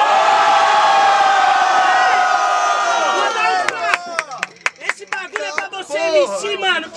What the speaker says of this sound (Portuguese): Muito barulho pra quem gostou das rimas do menor do Jó